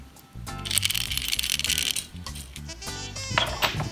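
Winding key turning in a Tri-ang Hornby RS.2 clockwork train, giving a rapid run of dry ratcheting clicks and rattles, close and fairly loud, with a short pause midway before more clicking.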